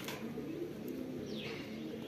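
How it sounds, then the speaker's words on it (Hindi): Pigeons coo softly in low, rolling murmurs against a steady background hum, with a brief chirp near the end. "तो अब थानू कबूतरों का शौक कराने जा रहे हैं जी।"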